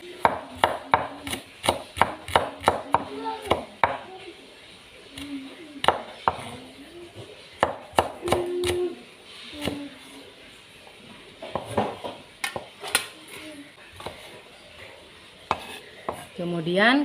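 Shallots being sliced with a knife on a cutting board, a series of sharp close taps in quick bursts with pauses between, under a quiet kitchen background with light clinks of utensils.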